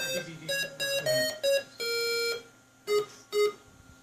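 A Commodore PET computer plays synth tones generated by its VIA chip: a run of bright, square-edged beeping notes in a quick melodic sequence, one longer held note, then two short separate beeps, clean and without talk.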